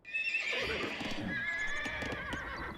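Horse neighing in Age of Empires II DE, a single loud shrill whinny rising and falling over a couple of seconds with faint hoof clip-clop beneath, heard alone with no talk.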